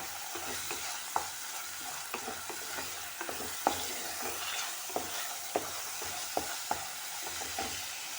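Tomato and onion fry in a pan for Malvani chicken masala, a continuous sizzle broken by frequent sharp scrapes and clacks of a spoon stirring the pan, close and alone.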